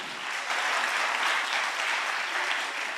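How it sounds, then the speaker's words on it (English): A conference hall crowd at a children's event breaks into sustained, even applause, a thick and fairly loud wash of many hands clapping with no voices on top. "Can we get a bigger round of applause?"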